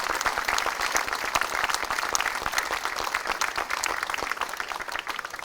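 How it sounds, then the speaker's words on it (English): An outdoor audience at a park tree house dedication breaks into a sustained round of applause, dense steady clapping that holds at a fairly loud level throughout, with no voices rising above it. "if you give them all a round of applause"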